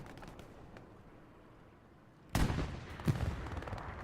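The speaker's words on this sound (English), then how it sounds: "Some machine gun, some hip-fire machine guns going on." In the Hell Let Loose World War II shooter, a loud burst of machine-gun fire breaks in suddenly after a couple of seconds of low battlefield ambience, then keeps crackling.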